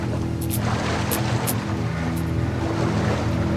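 Water in the video game Metro: Last Light, a dense, constant rush and wash of churning water close by, with a few faint higher splashes and no talk.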